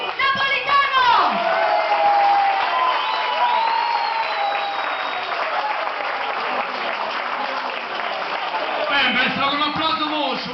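Sustained audience applause and cheering for a singer at a dinner show in a restaurant in Vietri sul Mare, loud and continuous throughout, with a few whoops and voices in the crowd and brief musical tones at the start and end.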